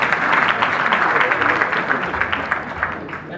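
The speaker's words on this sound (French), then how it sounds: "d'applaudir Coumba Gawlo." Audience applause at a formal ceremony in Côte d'Ivoire, a dense steady wash of many hands clapping throughout, moderately loud and sustained without pause.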